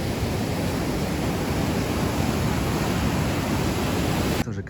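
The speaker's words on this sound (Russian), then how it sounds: "Ну а пока вот такое море для вас." Sea waves washing on the Crimean coast at Kurortnoe, a steady broadband wash of surf with some wind, continuous and fairly soft, cutting off abruptly at the end, no voices.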